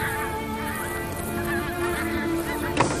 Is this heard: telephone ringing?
no